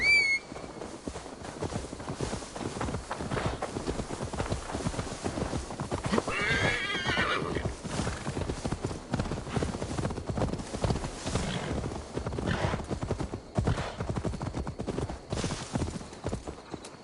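A horse in Assassin's Creed Valhalla clip-clops in a steady, brisk rhythm of hoofbeats throughout, with a loud whinny partway through and faint game ambience underneath.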